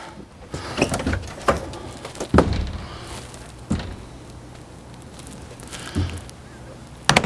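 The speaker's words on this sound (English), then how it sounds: "We've got an accordion door here." A folding accordion door inside a 2010 Itasca Sunstar 26P Class A motorhome is worked open and shut, giving a series of soft clacks and rattling thumps spread over several seconds in a quiet interior.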